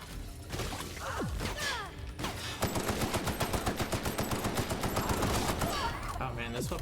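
Machine-gun fire from a weapon in The Outer Worlds, a rapid, even stream of loud shots rattling for several seconds after a few scattered effects, close and dense.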